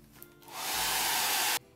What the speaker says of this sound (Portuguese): Eu vou dar uma secada com o secador.